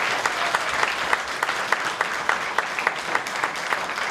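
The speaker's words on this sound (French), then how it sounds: "mon chef d'orchestre, M. Toton Albonne, on peut l'applaudir" An audience applauds the conductor, M. Toton Albonne, at a live stage concert. The clapping is steady and sustained, with sharper claps landing in a regular beat as though the crowd claps along, and no one speaks.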